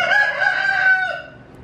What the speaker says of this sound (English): I just heard one of you little babies crow.